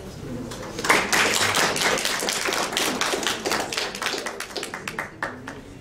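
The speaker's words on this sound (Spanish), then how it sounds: "La recibimos con cariñosos aplausos." An audience welcomes a speaker at a lecture with warm applause, a burst of close, dense clapping that swells quickly and then thins into scattered claps.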